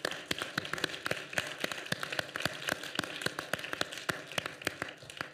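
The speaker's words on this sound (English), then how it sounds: "give them a round of applause" An audience applauds panel speakers at a public space discussion: sparse, scattered claps at an irregular pace, fairly faint and somewhat distant, with no steady roar.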